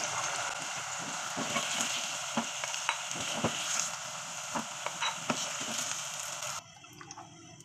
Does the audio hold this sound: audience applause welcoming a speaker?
no